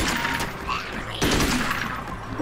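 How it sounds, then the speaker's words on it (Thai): Rapid bursts of gunfire in the video game Magicka, a dense fusillade that runs the whole short stretch, loud and steady with a sharper surge midway and faint voices in the background. "จิ๊บกำลังเล่นเป็นทหารอยู่ฝึกยิงปืน"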